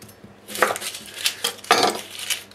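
A shallot is halved and sliced into half rings with a knife, giving a few distinct, close taps and scrapes of the blade against the board, loud and separated by short pauses.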